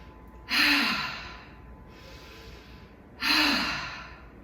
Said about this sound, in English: Inhale. Exhale, let it out.